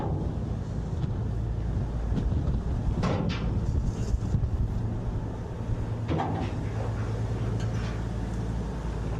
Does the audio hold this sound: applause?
no